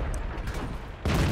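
A tank cannon shot in World of Tanks, part of a tank battle involving a KV-85, an IS and a T-43 with a 100mm gun: a loud, broadband boom bursts in near the end, over steady rumbling battle ambience.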